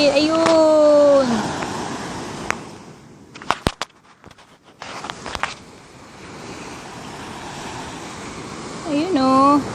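Sea waves and wind on an Ilocos beach, a continuous washing roar with wind buffeting the microphone, while people talk and exclaim excitedly over it near the start and end.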